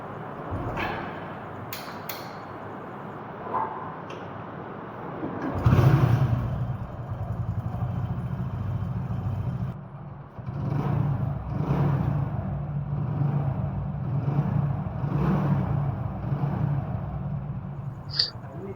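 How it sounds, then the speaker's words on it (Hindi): A motorcycle engine cranks and catches, then idles with a throaty putter and several short revs, close by, with a few clicks before it starts. "चलिए इस गाड़ी को हम स्टार्ट करते हैं और सुनाते हैं इसका आवाज"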